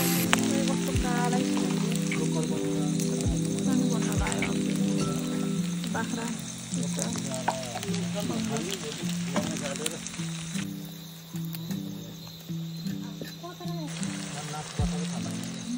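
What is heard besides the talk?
boiled pork frying in a pan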